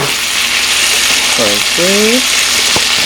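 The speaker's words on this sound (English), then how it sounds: "we're browning the potatoes first" Potatoes browning in a frying pan with chopped peppers, onions, turmeric and spices give a steady, loud sizzle throughout, broken briefly by talk over the top.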